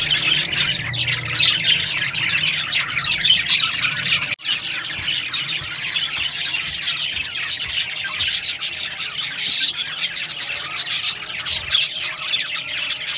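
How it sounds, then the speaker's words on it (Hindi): A pet parrot kept at a grandfather's house squawks and chirps repeatedly throughout, loud and close, over a steady bed of background noise, with one brief dropout partway through. "हमारे नाना के घर जो था वो उन्होंने एक तोता पाला हुआ था, तो ये उसकी एक छोटी सी क्लिप है"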